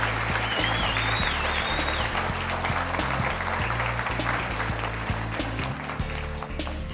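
Sustained audience applause at a wool fashion show in Reno honoring ambassadors, dense steady clapping throughout with a low music or rumble bed underneath.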